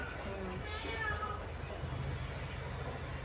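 A cat meows close by in a kitchen where shrimp are being cleaned, brief mews under a woman's speech and faint background noise.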